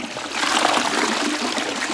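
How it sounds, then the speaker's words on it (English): A toilet flushes after cleaning: a steady, close rush of swirling water and trickling runs for the whole stretch, fairly loud and continuous with no voices. "let's flush it and see if the soap scum did come"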